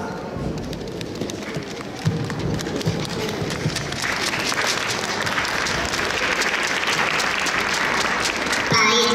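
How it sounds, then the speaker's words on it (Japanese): An audience breaks into sustained applause and cheering at a 2019 live fifteenth-anniversary festival show. Dense clapping rolls on continuously, swelling slightly after the first couple of seconds, with crowd voices mixed in. "拍手や歓声お願いします。"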